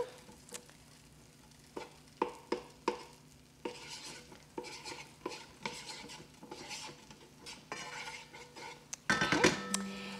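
Garlic frying in a pan for an asparagus dish, stirred with a utensil, gives a soft sizzle broken by repeated sharp scraping clinks, ending with a louder burst of sizzling and clatter, with no talking.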